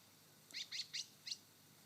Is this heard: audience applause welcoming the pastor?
no